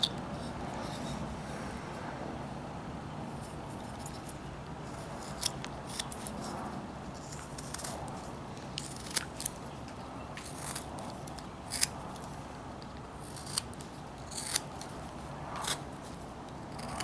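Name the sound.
knife whittling a wooden hobo burro carving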